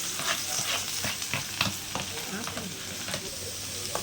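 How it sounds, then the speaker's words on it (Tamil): Onion, green chilli and curry leaves fry in oil with popped mustard seeds, a soft steady sizzle broken by repeated scraping stir strokes. "இப்போ எல்லாத்தையும் சேர்த்து ஒரு எண்ணெயில் ஒரு பரட்டிக்கலாம்"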